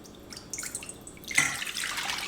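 A splashing pour of 5% vinegar into a container for pickling brine, a soft trickle that grows into a steady stream after a brief start, close and quiet.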